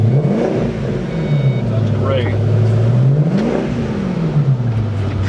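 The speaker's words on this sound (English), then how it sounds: "there's nothing subtle about the sound of this car" A 2005 Ford Mustang Roush GT's engine revs up and down in two close, loud sweeps over a steady idle rumble, with a brief spoken remark in the middle.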